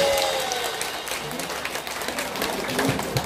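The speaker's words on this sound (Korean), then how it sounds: "박수 많이 주세요." Applause from the audience at a singing-class year-end party, steady clapping at moderate level without much shouting, lasting a few seconds.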